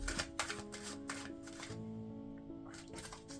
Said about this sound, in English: So to do this I first need to shuffle the cards just like this,